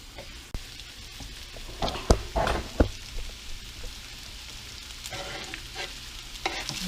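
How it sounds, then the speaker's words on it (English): Floured pork pieces sear in a Copper Chef XL casserole pan for pork chop stew, a steady quiet sizzle broken by a few sharp scrapes and knocks as the meat is stirred around. "Let's keep stirring the meat so all the sides start to cook a little bit and brown a little bit"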